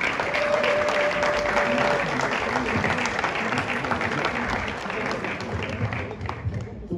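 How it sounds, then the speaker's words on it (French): Crowd applause at a Lumumba Award festival ceremony in Europe, a continuous burst of clapping with voices mixed in underneath, steady throughout before easing slightly near the end. "Il mérite les applaudissements."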